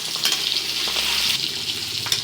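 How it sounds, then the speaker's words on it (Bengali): Eggs frying in hot oil in a kadai give a loud, continuous, close-up sizzle with no voices over it. "কড়াইয়ে এখন আমি ডিম দিয়ে দিচ্ছি এখন ভাজবো ডিমগুলোকে"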